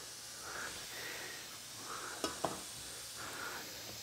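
Strawberries and watermelon pieces sizzling on a hot grill, a soft continuous hiss with faint crackles and two small pops near the middle, no talking.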